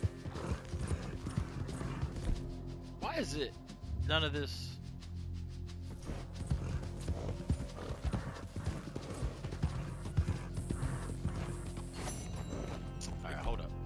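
Horse hooves clip-clop steadily in Red Dead Redemption 2, with a loud whinny partway through, all under a busy game soundtrack and someone talking.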